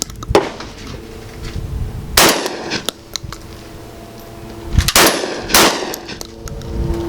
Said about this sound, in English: so the first 6 shots, we got 2 failure to ejects